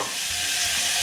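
Masala being stirred into sliced bitter gourd sizzling in a pan, a close, steady frying hiss with soft scraping throughout and no voices.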